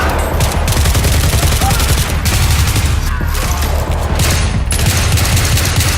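Sustained heavy gunfire from Battlefield 3 Gunmaster mode on a close-quarters map, loud and continuous, with dense overlapping shots and bursts throughout and no talk.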